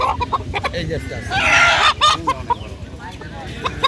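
Large rooster clucking and crowing calls, loud and close, with a bright burst midway amid a busy rural poultry market background of voices in Bangladesh.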